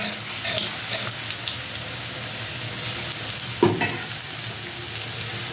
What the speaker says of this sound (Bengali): দিয়ে একটু ভালো করে ভেজে নেব রসুনটা